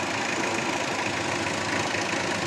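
Mitsubishi car engine idling steadily, a continuous even rumble with no voices.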